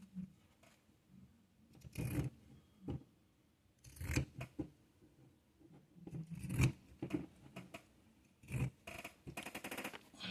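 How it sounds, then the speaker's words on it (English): Scissors slice through a giant paper bag in irregular bursts of crisp snipping and crunching paper, several separate cuts with quiet pauses between them, close and clear. "I'm going to cut this down."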